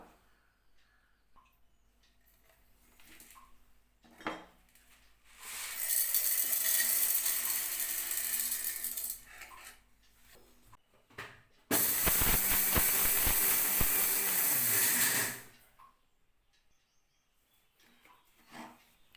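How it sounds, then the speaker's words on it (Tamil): A kitchen mixer grinder pulverizes about 200 grams of sago pearls into coarse powder, with two loud, whirring bursts of several seconds each separated by a brief pause and quiet handling sounds before and after. "இப்போ இதை நம்ம மிக்சியில் போட்டு பொடிச்சிக்கலாம்"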